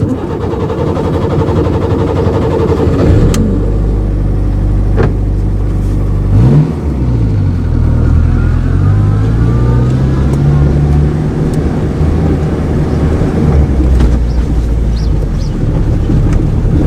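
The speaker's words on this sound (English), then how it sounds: "Renault 4CV rallying." A Renault 4CV, a small 1950s car, drives on a rally with its engine revving up and down through gear changes, loud and close, with wind buffeting the microphone throughout.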